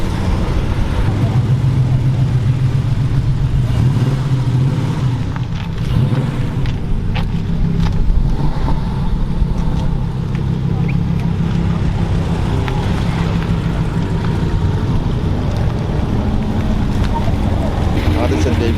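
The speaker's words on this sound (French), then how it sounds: "Et là, on a toutes les vieilles Porsche qui partent." Old Porsche cars pulling away at a Gentleman Driver Day convoy, engines rumbling steadily at close range under continuous talk and crowd noise.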